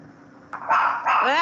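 A dog gives two or three short barks and yips at close range, rising out of a quiet room after a faint thump, with no talk over them.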